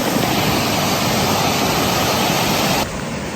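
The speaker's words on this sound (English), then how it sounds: "It's quite fast moving, that water." Fast-flowing floodwater in Thailand beside a road through rice paddies, a loud, dense, continuous rushing roar close by that drops slightly in level near the end, with no talking.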